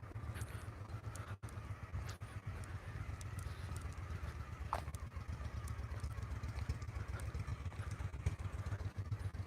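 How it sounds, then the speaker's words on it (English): A motorcycle engine rumbles steadily at close range, a low, even drone that holds for the whole stretch without a clear rise or fade, with no voices. "I hear a motorcycle."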